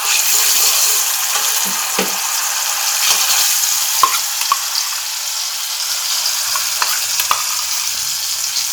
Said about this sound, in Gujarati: એ જ તેલમાં આપણે દહીંને ફ્રાય કરી લઈશું.